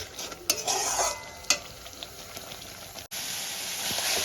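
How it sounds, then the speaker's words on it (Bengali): Soaked ground spices stir-fried in a pan, with a continuous close sizzle under scraping stirs and a few sharp clicks of the utensil against the metal. "এবার ভালো করে আমি কষাতে থাকবো।"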